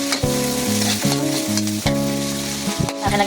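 Food sautéing in a pan with a steady sizzle and stirring, heard close up under loud, clearly pitched music that changes notes every half second or so.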